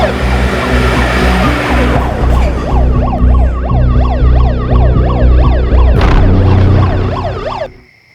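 An ambulance siren wails loud and close, its rising and falling tone cycling steadily over traffic rumble before cutting off abruptly at the end.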